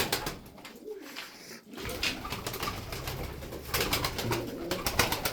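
Several pigeons coo over and over nearby, their soft calls mixed with fluttering and rustling.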